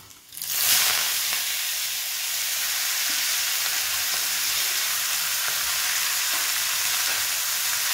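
Chopped spinach with garlic cloves, curry leaves and asafoetida sizzling in a pan for moong dal palak: a loud, steady, bright frying hiss that rises quickly and holds, with faint scrapes of stirring.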